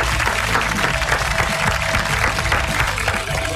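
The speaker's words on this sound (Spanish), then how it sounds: "Y aplausos, sí." Studio audience applause on a television show, a loud, continuous roar of clapping mixed with crowd noise and a low background hum, sustained throughout with no clear speech.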